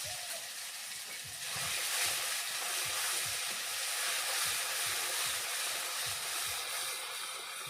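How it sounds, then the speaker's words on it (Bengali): Ginger and green chili paste fries in oil with turmeric, giving a loud, continuous hissing sizzle with soft rhythmic low thumps underneath and no voices. "আদা ভাজা ভাজা হয়ে গেছে"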